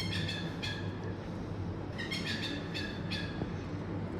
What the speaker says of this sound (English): we woke up to this bird waking us up the next morning